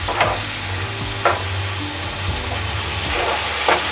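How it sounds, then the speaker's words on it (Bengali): Ginger garlic paste frying in oil in a pan while being stirred for egg korma, a close steady sizzle with the scrape of a spatula recurring at intervals, no voices. "আদা রসুন পেস্টটা দিয়ে এভাবে ভালোভাবে নাড়তে হবে, যতক্ষণ না তেলটা ছাড়ছে ততক্ষণ"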